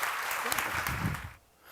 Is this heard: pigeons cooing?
no